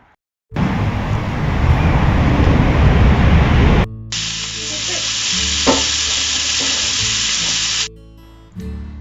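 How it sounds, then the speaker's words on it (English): First-harvest home-grown courgettes fry in a pan for dinner, giving a loud, steady sizzle that cuts off briefly and then resumes slightly quieter for several seconds before stopping. "my dad's just cooking the courgettes for our dinner tonight"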